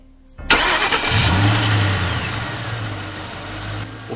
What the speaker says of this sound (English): Someone just start the car?